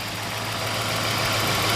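A 1950 Chevrolet Styleline Deluxe with dual exhaust and electric fans, running on pump gas, idles steadily at close range, a smooth, even low rumble with no talking.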